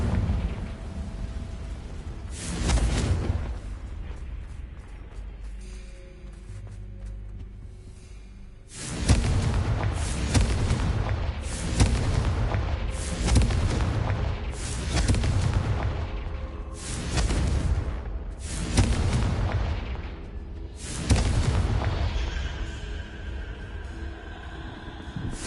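Explosive Confringo spell bursts in the Hogwarts Legacy video game, a string of loud booming blasts in quick succession with rumbling tails, preceded by a quieter stretch with one earlier blast.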